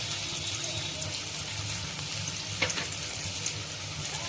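Onions fry in a pan until brown, making a steady, moderate crackling sizzle throughout, with a brief clink of a utensil midway.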